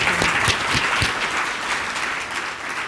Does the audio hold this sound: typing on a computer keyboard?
no